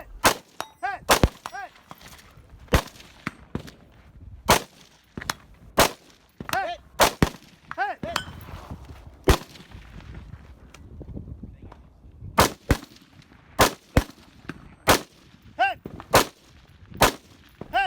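Rifle shots in a practical shooting competition stage, fired offhand with a red-dot-sighted limited-division rifle at steel targets about 50 yards away: sharp cracks in uneven bursts, many followed by a ringing metallic clang of the steel being hit, with no talk.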